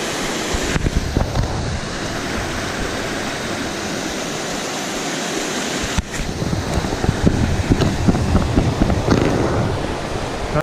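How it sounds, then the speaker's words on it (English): Running water in the Glendalough valley in County Wicklow, a steady broadband rush of flowing water heard close and continuous, swelling slightly louder partway through, with no talking. "Who doesn't like the sound of running water?"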